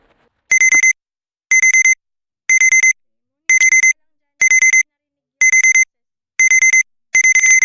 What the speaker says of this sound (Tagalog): Yung alarm mo, napakaingay!